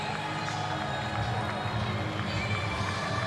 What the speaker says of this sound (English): Everyone's up cheering on Cal Ripken.